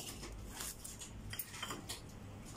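A utensil stirs and scrapes a coconut and pearl millet mixture in a pan over heat, a close, continuous rasping shuffle with faint clinks and no voices.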